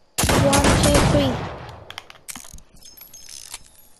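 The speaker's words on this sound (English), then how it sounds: "It's a 6-shooter, guys." A six-shooter revolver in the video game Fortnite fires with a loud, close blast that decays over about a second, followed by several quieter mechanical clicks and clacks as the gun is handled.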